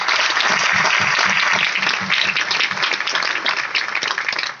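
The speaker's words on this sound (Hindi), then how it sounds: "उनके लिए एक बार जोरदार तालियां" Loud, sustained applause from a large crowd at a business event honouring a top upline, thick continuous clapping filling the whole stretch, with a low rhythmic thumping underneath early on.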